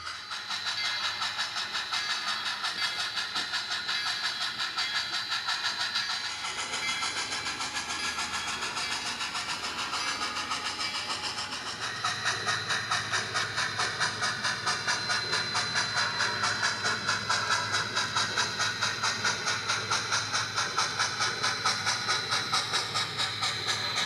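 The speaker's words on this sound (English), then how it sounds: "Here a train arrives in Brasasco and begins to back up the branch." An HO scale model steam train on a 1923 Sierra Railway layout, arriving and then backing up a branch line, with a constant hiss of steam over a rapid, regular clicking pulse that grows firmer later on.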